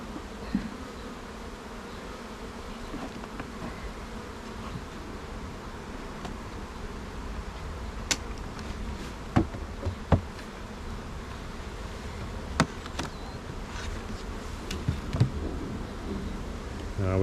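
Honeybees swarm and buzz in a dense, continuous drone around a hive during a hive split, with occasional close fly-bys and soft rustling from handling the hive boxes.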